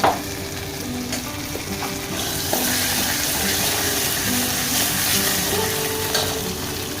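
Garlic frying in hot oil in a kadai as asafoetida goes in, a dense continuous sizzle up close with a few light clinks and a faint tonal hum underneath, no talking.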